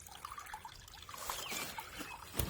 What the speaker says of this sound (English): have water from pond 1 coming down to pond 2, and a nice waterfall here